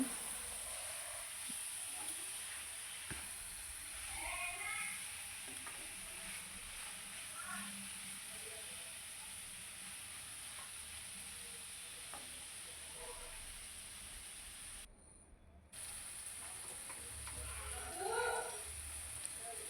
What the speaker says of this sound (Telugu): చిక్కుడుకాయ ముక్కలు వేసుకోవాలి కిడిగాయ ముక్కల్ని అంతా కలిసేలా కలుపుకోవాలి